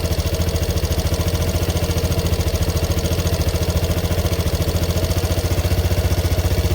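A 2016 Piaggio Medley 125 scooter engine idles close by with a fast, even, pulsing putter and a steady hum that holds level throughout, with no voices.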